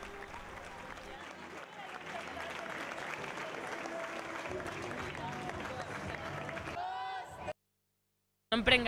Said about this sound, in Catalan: Cifuentes ha rebut un càlid homenatge de les seves companyes i una llarga ovació de la graderia.